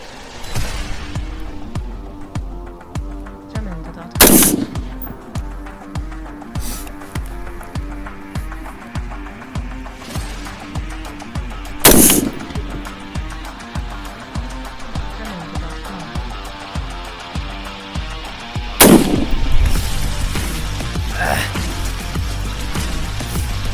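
Three sharp, loud AR-15 rifle shots ring out several seconds apart over a steady rhythmic mechanical pulsing in the background.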